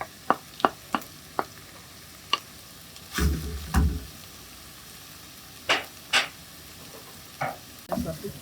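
Tomato paste going into a hot pan for macaroni sauce: sharp utensil taps and clinks, then short loud bursts of sizzling as the paste hits the oil, spaced apart over a quiet background.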